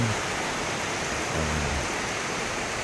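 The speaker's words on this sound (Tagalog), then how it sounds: "Sounds na to ng ulan" Heavy rain pours down steadily as a dense, constant hiss, with no letup for the whole stretch.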